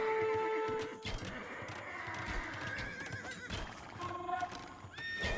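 Horses of mounted scouts, horse archers in a strategy video game, whinny and neigh over a busy bed of clip-clopping hooves and battle clutter, several calls across the stretch, moderately loud.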